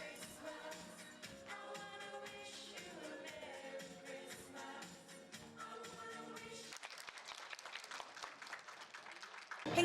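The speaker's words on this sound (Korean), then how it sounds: "조이너스 라인 댄스 팀이 그동안 준비해온 무대에 사람들의 환호가 이어집니다" At a Korean senior association event in Atlanta, music plays and then an audience breaks into bright, sustained applause and cheering after a line dance team's performance.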